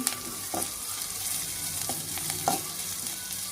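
Onion fries in a pan for beetroot fry, with a moderate sizzle and a few sharp scrapes and taps as it is stirred.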